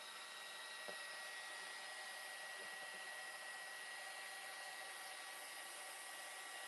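A hair dryer runs steadily and close for the whole stretch, blowing on craft paper during a stamping and colouring project, with a constant whirring hum and no talk.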